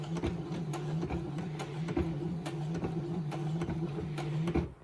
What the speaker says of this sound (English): we'll lift up the foot of the sewing machine